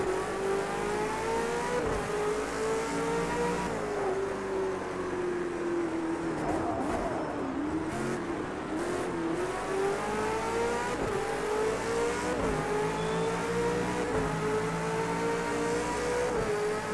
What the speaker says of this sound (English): I like the squeal of the gearbox on this game though.